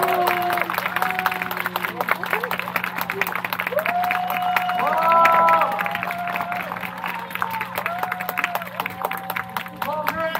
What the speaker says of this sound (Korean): 박수로 맞이해 주시기 바랍니다.